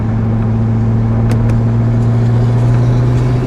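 A Corvette Z06 engine fitted with a DSX intake lid drones steadily at close range with a deep, loud intake rumble, holding a fairly constant pitch with little change in revs.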